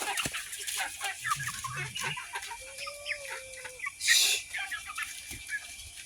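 Several chickens cluck and chatter at close range, scattered calls overlapping through the clip with a brief louder burst partway through.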